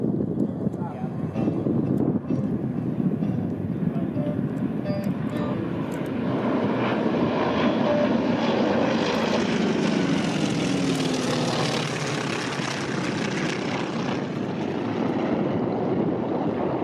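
A T-28 Trojan propeller aircraft flies past at the Bremerton Airshow, its engine roar swelling steadily to a loud peak and then fading, with wind rumble throughout.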